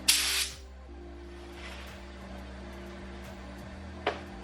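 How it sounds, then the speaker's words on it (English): A short, loud hiss of spray bursts at the start, blowing dust off a Ford Mustang being prepared for paint at home, followed by a quiet hum and a brief second puff near the end. "Just kind of spraying off that dust."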